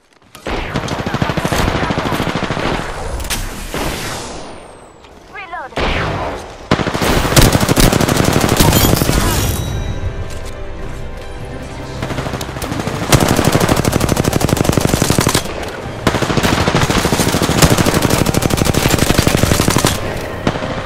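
Gunfire in the Apex Legends video game: loud, close bursts of rapid automatic fire and repeated shots across the whole stretch, with brief lulls between volleys and no talking.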